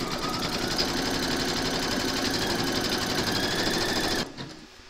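An embroidery machine stitches the placement outline for a large skeleton applique, a steady, close, rapid mechanical whir with regular needle clatter that runs loudly for about four seconds before stopping and trailing off.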